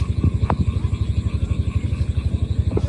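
A trawler boat engine on a river thumps out a steady, rapid putt-putt rhythm, close and fairly loud, with a couple of faint knocks over it.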